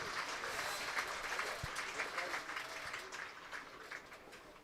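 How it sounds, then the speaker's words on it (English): A cricket crowd at a Worcestershire Rapids versus Leicestershire Foxes match breaks into a ripple of scattered clapping after a dot ball, steady and moderately distant, with no talk over it. "Crowd showing their appreciation of a dot ball with a spontaneous ripple of applause."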